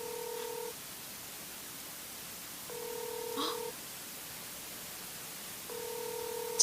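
A telephone ringback tone repeats three times in steady, evenly spaced two-tone bursts of about a second each, separated by longer silences, heard clearly over faint background hiss.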